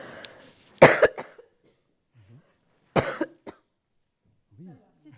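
A woman with an allergy gives two short, sharp coughs a couple of seconds apart, close and fairly loud, with faint brief bits of voice between them and near the end.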